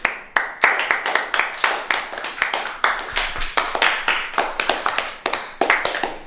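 A small group claps steadily, the claps sharp and uneven, with scattered voices mixed in; the applause runs the whole time without dying down.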